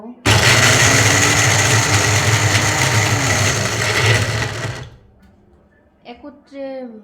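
A blender grinds peanuts into protein powder at low power, a loud close motor whir that runs steadily for about five seconds then cuts off, followed by brief speech.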